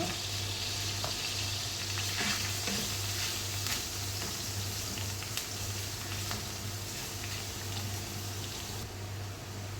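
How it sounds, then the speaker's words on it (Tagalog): Garlic sautéing in oil drained from canned tuna makes a loud, steady sizzle with crackling pops, under a low humming drone, and nobody is talking. "Tapos yung pinaka-oil ng tuna, yun na rin gagamitin natin pang-gisa. Mag-add tayo ng bawang."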